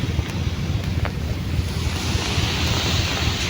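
Strong wind roaring and buffeting the microphone steadily, with a rushing, surf-like wash throughout and no talking.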